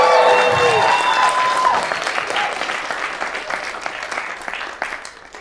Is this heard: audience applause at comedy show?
yes